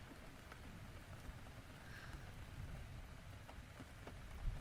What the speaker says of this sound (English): Many people aren't fond of rain, but I just think it's perfect weather for sipping a cup of tea while gazing out the window.